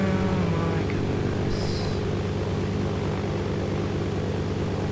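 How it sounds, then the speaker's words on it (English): A propeller airplane drones steadily in the video game DayZ Mod, its engine a constant low hum with layered tones that holds at an even, fairly loud level throughout. "And then I lifted up with the airplane to fly around"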